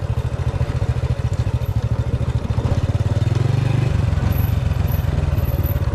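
A semi off-road motorcycle rumbles steadily and loudly up close, its engine pulsing with clattering over a rocky, sandy mountain road, with no talk.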